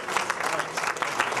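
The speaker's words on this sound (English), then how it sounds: "They're going to start applauding" Steady audience applause at an Exchange Club meeting in Michigan City, a dense wash of many hands clapping close by for the whole short stretch with no pauses.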